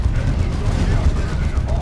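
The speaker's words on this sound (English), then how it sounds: "The double Vanquisher Cannon is just demolishing this Land Raider Phobos." Heavy cannon fire from a double Vanquisher Cannon pounding a Land Raider Phobos tank in a Warhammer 40,000 strategy game battle, a dense continuous rumble of booming shots and explosions under commentary.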